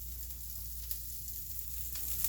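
Charred broccoli sizzling in a frying pan: a soft, continuous crackling hiss with scattered tiny pops, fairly faint and steady throughout, with no one speaking.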